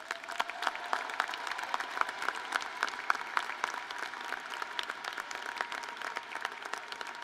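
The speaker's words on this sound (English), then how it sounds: "Please join me in showing our appreciation with a round of applause for their efforts." Audience applause for workers and volunteers at a graduates' commencement ceremony, a steady, moderate crackle of many hands clapping with some distinct sharper claps near the front, continuing evenly without speech.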